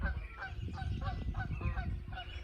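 A flock of geese honks repeatedly and steadily in snowy weather, a busy chorus of calls over a low rumbling background.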